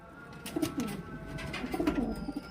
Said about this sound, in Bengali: মুসকি নর এবং মুসকি মাদা দুটো খুব সুন্দর কোয়ালিটির পায়রা